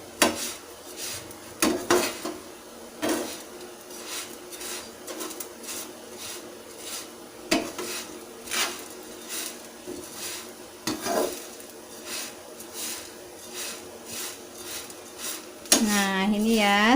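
Ingredients being stirred in a pan until lightly browned, with clinking and scraping of a utensil against the pan in irregular strokes, close and moderate, joined near the end by a bird's rising call.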